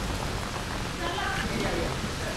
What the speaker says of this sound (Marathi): बेकार पाऊस पडतोय येडी.